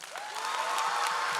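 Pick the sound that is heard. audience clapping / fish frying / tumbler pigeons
audience clapping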